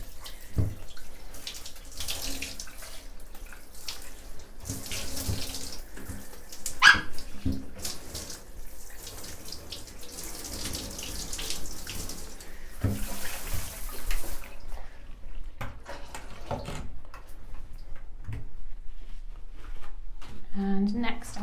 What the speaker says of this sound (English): I'm just going to shower that, rinse.